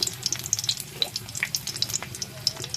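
A bay leaf and two dried red chillies fry in hot oil in a kadai, crackling with quick, irregular pops and a thin sizzle. The sound is close and continuous, with no talking.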